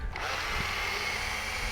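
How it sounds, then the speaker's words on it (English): Power drill running at slow speed to clean a Khan Venator X semi-auto shotgun barrel, giving a continuous close whirring drone with no pauses. "just put the drill on slow speed"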